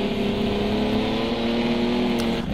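A race car engine in a sim racing game, a black, gold and red BMW in a Group 5 event at Hockenheim, drones loud and steady with a slight pitch shift as it passes close by.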